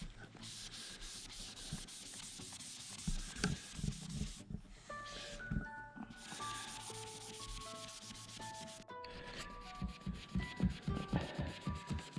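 A 2010 Toyota Tacoma headlight is hand sanded with coarse grit, giving steady rhythmic scraping strokes up close, with a faint melodic tone sounding through the middle stretch.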